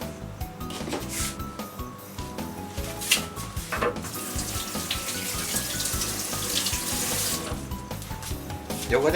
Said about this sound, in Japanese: Si queda sucio, lavamos con agua